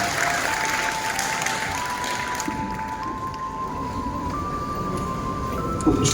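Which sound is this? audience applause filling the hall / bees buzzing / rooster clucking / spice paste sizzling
audience applause filling the hall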